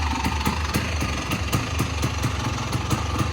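A 1985 Honda ATC250R three-wheeler engine running just after a single kick start, a close, loud, rapid two-stroke putter with steady rhythmic firing pulses and no talking.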